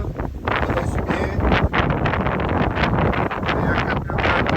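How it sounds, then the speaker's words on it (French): Wind rushes steadily over a sailboat running under genoa alone with a following wind off Corsica toward Propriano, a loud broadband buffeting roar across the microphone with gusty surges and no speech. "on navigue à la Marseillaise aujourd'hui que sous Génois avec un vent portant qui nous pousse"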